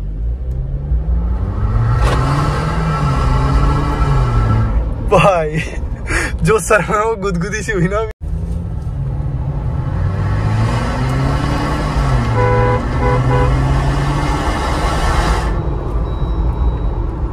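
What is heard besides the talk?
Jeep Wrangler Rubicon 2023 exhaust while accelerating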